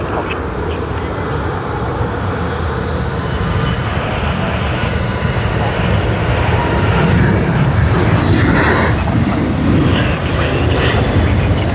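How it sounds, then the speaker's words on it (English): A China Southern airliner taxis at Sydney Airport, its jet engines giving a loud, steady roar that holds throughout at close range, with faint talk in the background. "China Southern has begun taxiing as well."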